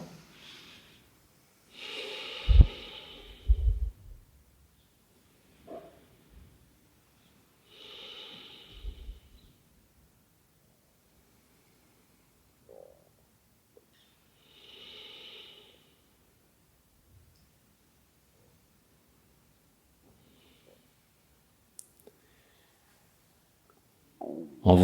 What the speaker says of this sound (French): on prend 3 grandes respirations conscientes